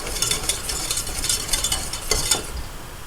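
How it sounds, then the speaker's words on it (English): A spoon stirs mashed potatoes and broth into a thick gravy, giving soft, repeated wet scraping strokes at close range with a steady rhythm and no talk. "Stir it again."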